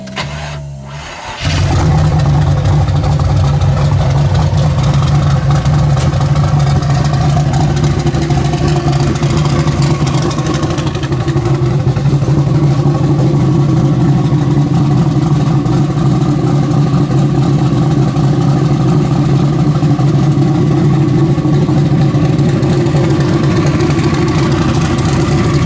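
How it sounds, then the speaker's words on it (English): A 1974 Chevy Nova with a new turbocharged engine at 9 psi boost starts up and settles into a loud, steady, lumpy idle that runs close by and uninterrupted for over twenty seconds. "See how it runs with a new motor and only 9 psi boost."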